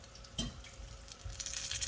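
Egg rolls frying in hot oil, a faint close-up sizzle with crackling pops and a brief louder splash of bubbling near the start.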